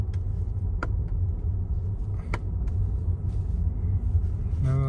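A Mercedes EQS 450+ electric car on the road, heard from inside with the regeneration setting switched off, gives a steady low tyre and road rumble with a few faint clicks and a short thump at the end.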